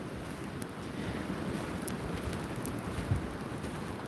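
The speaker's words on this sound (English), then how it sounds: "This wind needs to die down." Strong wind during a snow and ice storm, blowing as a steady, dense roar with rumbling gusts and buffeting against the microphone, with no voices.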